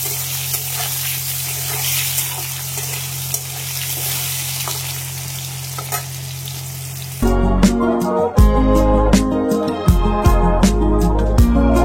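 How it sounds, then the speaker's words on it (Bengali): Cauliflower frying in hot oil already used for fish and potatoes makes a loud, dense, continuous sizzle, then music takes over about two-thirds of the way through. "কপিটা ভেজে নেব।"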